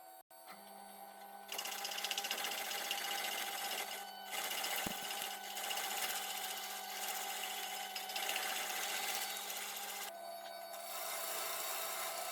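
A laurel log, weathered and partly rotted from sitting outdoors, spins on a wood lathe while a tool strips its outer layers, giving a steady gritty scraping and rasping over a motor hum, with brief pauses and a sharp knock.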